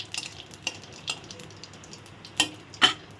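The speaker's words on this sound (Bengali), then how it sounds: "কড়াইতে আমি এখন ফোড়ন দিয়ে দিব জিরা" Cumin seeds tempering in hot oil in a wok make a faint, close sizzle dotted with quick crackling pops and a couple of sharper scraping clicks.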